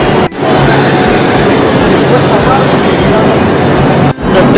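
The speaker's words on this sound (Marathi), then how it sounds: "इटालो ट्रेनचं आत्ताच जस्ट आगमन झालेलं आहे" An Italo train arriving at Rimini railway station sends out a loud, continuous rumbling roar up close that fills the whole moment, with brief dips near the start and end.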